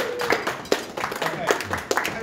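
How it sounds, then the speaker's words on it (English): A live magic-show audience gives scattered applause as card trick volunteers come forward, with a few sharp, distinct claps standing out over murmuring voices. "everyone else will give you a huge round of applause"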